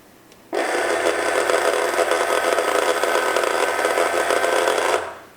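A vintage Tomy Hearoid toy robot under repair switches on and its small motor whirs steadily driving forward, a close buzzing gear drone lasting about four and a half seconds before cutting off.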